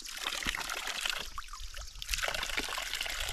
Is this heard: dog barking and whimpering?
no